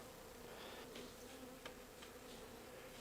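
Bees buzzing steadily around an opened hive during a winter feeding, a close, continuous drone with a few louder passes near the microphone, and no talking.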